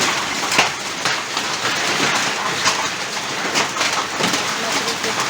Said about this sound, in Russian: какой град у нас в Стерлибакове.